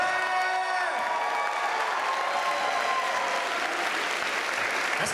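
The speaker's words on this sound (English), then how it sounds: "Give a big round of applause again for this." A large audience at a convention's closing ceremonies applauds steadily, a dense wash of clapping with scattered cheers holding at full volume throughout.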